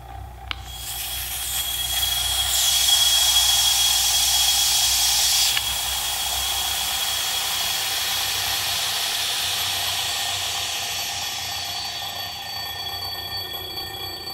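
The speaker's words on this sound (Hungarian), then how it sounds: "Most beengedjük a levegőt a harangba" A steady hiss of air rushing into an evacuated bell jar, loud and broadband, with a faint bell ringing beneath that grows clearer as the hiss fades.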